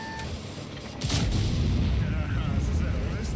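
Heavy artillery shell from the sky striking and glancing off a newly balanced tank in a video game, a sudden loud booming impact with a dense rumbling tail, under background game noise and a voice.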